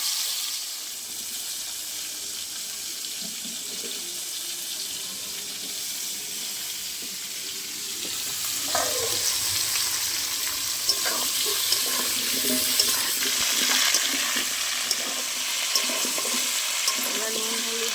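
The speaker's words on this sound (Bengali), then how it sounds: "ওল আর আলু একসাথে ভেজে নেবো।" Elephant foot yam and potato frying together in oil with cumin and dried chillies, a steady hiss of sizzling that grows louder partway through, with occasional spatters and faint voices in the background.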